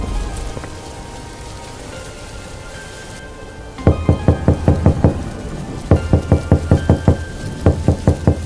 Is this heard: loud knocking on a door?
yes